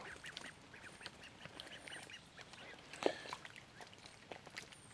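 Ducks quack faintly at a carp fishing lake, a few soft scattered calls over quiet outdoor background, with one slightly louder quack near the middle.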